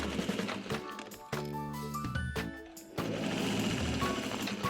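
Sewing machine stitching a 3/8 inch seam on a quilt, a steady mechanical whirring hum that pauses briefly and restarts, running continuously and close by.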